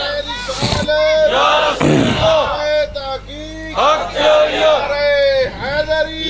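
A large crowd answers a Nara-e-Takbir call at a religious gathering with a loud unified chant, rising in several swelling waves of many voices over about six seconds.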